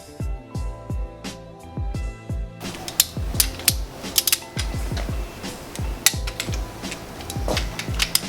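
Ratchet tightening ARP head bolts on LS1 cylinder heads in an engine build: rapid close metallic clicking, first in short bursts, then a denser run of ratcheting clicks and tool knocks, without speech.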